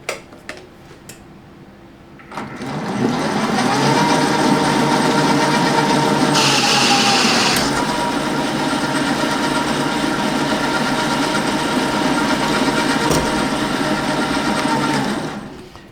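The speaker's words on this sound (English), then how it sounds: "wind in a bit of depth of cut, power it on and see if we cut the same thread" A metal lathe runs under power feed while cutting a screw thread, giving a steady, loud mechanical whir with a faint ticking rhythm that starts after a quiet moment and holds until near the end.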